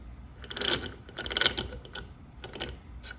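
Worn jaws being unscrewed from a metal lathe chuck, a close, quiet run of clicking and ratcheting metal ticks coming in uneven bunches.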